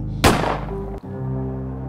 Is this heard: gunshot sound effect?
yes